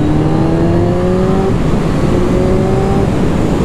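A Kawasaki Z1000R motorcycle engine runs steadily and loud while riding, its droning tone holding and shifting pitch slightly, with no one talking over it.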